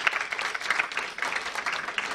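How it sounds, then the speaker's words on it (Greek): An audience at a Greek event on ADHD applauds a speaker being introduced, a brief burst of dense clapping lasting about two seconds. "Ένα χειροκρότημα παρακαλώ."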